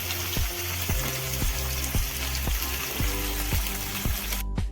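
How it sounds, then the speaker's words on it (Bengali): Pieces of rui fish fry in hot oil until reddish, a dense continuous crackle and sizzle with a rhythmic low knocking repeating every half second or so, close and steady throughout. "দেখতে দেখো আমি মাছটা ভেজে নিচ্ছি লাল লাল করে"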